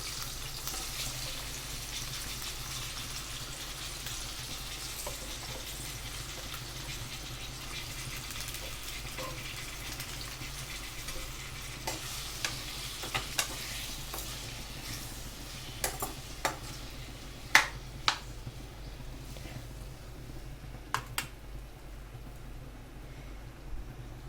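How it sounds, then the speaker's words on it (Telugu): Chopped tomato pieces fry in a pan for a tomato-coriander pickle, making a faint, steady sizzle throughout, with a few sharp clicks of a stirring utensil against the pan later on and no voices. "ఇందాక కట్ చేసుకున్న టమాటాలు కూడా అందులో ఫ్రై చేసేద్దాం"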